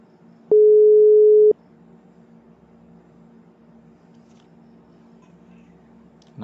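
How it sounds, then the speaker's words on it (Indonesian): A WhatsApp voice call rings on a laptop: a single steady electronic tone sounds for about a second, then fades to a quiet background hum. "kita klik tanda teleponnya ini sedang berdering"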